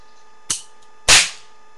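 Two sharp pops from a toy revolver cap gun, a lighter snap followed about half a second later by a louder, fuller crack with a short ringing tail, close and alone with no talking.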